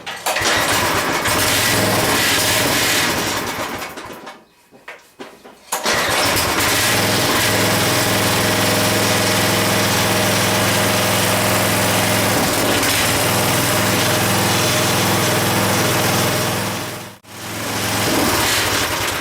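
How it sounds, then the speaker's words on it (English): A Craftsman tiller's small gasoline engine runs loud and close right after starting, holding a steady high-revving drone. It briefly cuts out partway through, restarts, and later dips for a moment before roaring on. "That's as fast as it wants to run up."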